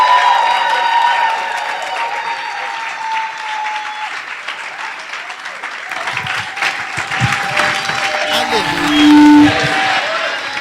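A church congregation applauds during a service in Calgary, loud and sustained, with dense clapping and some cheering over lingering tonal music or sustained notes, the clapping growing more rhythmic in the second half.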